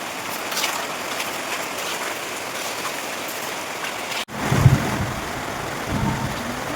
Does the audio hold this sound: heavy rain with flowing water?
yes